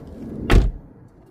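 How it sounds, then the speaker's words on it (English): On a 2006 Pontiac G6 GTP hardtop convertible, the trunk release fires a single short, sharp pop and thunk as the latch lets go, close and brief against a quiet background. "the only way you can get into the trunk is by pushing the trunk release"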